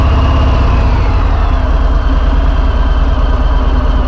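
A Harley Davidson Fat Bob 107 motorcycle engine idles loud and close, a steady deep rumble that holds evenly throughout without a distinct start.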